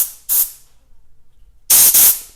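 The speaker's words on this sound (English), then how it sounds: "I like to give it some shots of compressed air just to get everything further off of it." Compressed air blasts off a Craftsman 5/24 track snow thrower carburetor after carb spray cleaning, two loud hissing bursts separated by a quiet pause, then two more sustained close blasts with a brief break between them.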